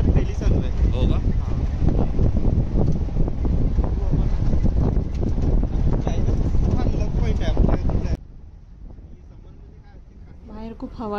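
Strong wind buffets the microphone from an open vehicle on a jungle safari in Pench National Park, a loud continuous roar with rumbling gusts that drops sharply near the end, leaving quieter background.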